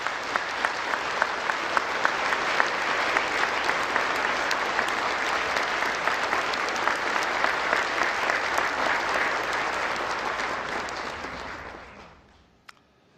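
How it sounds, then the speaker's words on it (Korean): Sustained, dense applause from a large audience welcomes President Yoon Suk-yeol at the 54th National Prayer Breakfast in Korea, steady and loud for about twelve seconds before fading out. "뜨거운 박수 부탁드립니다"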